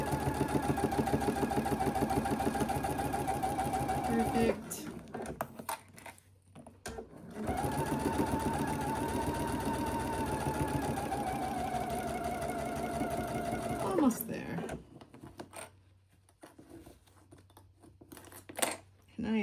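A sewing machine stitches fabric in a fast, even buzzing run, stops, then runs again for a longer stretch before falling quiet amid small handling noises.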